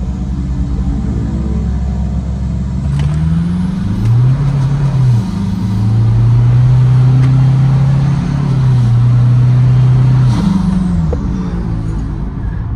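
A Toyota Kijang Innova diesel engine roars nearby, accelerating hard and climbing through gears with shifting pitch over a heavy rumble, loud throughout.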